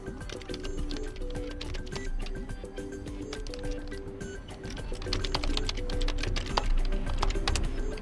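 Keys tapping steadily on an ASUS Chromebook C434T keyboard while a password is entered, a continuous close run of light clicks over faint background tones.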